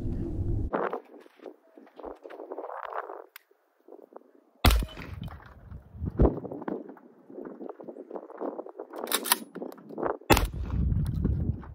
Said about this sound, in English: shotgun being shot at 7 to 10 yards